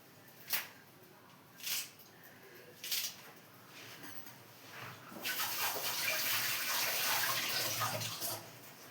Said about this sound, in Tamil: பீன்ஸ் இருக்குது இதெல்லாம் அலசிக்கலாம்